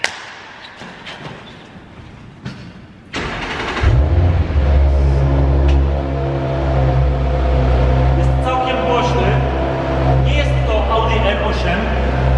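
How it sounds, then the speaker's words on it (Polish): An Audi RS5 fires up from a cold start after a night in the garage: a few clicks, then the engine catches and settles into a loud, steady high idle with a deep rumble, recorded close. "Teraz pora na cold start. Zobaczcie, jak brzmi ten samochód po całej nocy przespanej w garażu."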